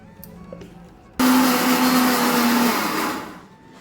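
A mixer grinder blends dal into a thick paste, bursting on loudly after a quiet start and holding a steady high whir for about two seconds before winding down.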